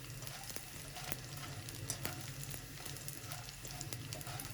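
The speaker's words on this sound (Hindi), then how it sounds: "घी डाला है गोंद फ्राई करने के लिए।" Edible gum (gond) fries and puffs in hot ghee, a soft, even crackling sizzle with scattered pops, faint and continuous, no talking.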